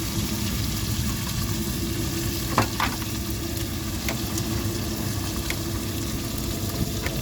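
Chopped tomatoes frying in oil for a fish curry with salt and kodampuli, giving a steady soft sizzle over a low background hum, with a couple of faint clinks partway through.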